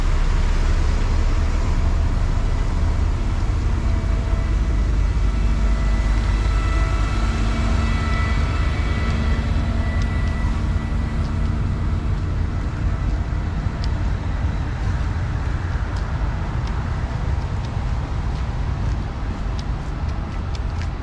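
Diesel trucks rumble through foggy city street traffic near the Capitol, a steady loud low roar of engines and road noise running throughout with no break.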